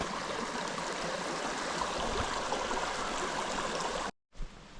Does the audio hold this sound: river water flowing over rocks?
yes